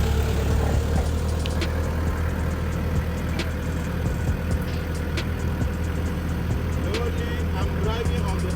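A forklift rolls slowly forward down a warehouse aisle, its engine giving a steady, loud, low drone throughout, with faint clicks and rattles over the hum.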